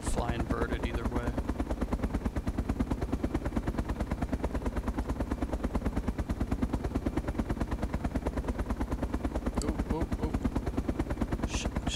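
Home-built gyrocopter in the ArmA II mod, flying with a steady, loud rotor and engine drone that holds unbroken throughout, with faint brief clicks on top.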